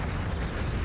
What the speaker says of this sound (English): it's making a lot of explosions